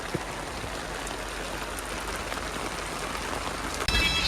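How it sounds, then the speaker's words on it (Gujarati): Heavy rain pours down steadily as a dense, even hiss that fills the whole stretch, close and fairly loud with no voices. "જો વરસાદ જો વધતો જ જાય હે વધતો જ જાય છે"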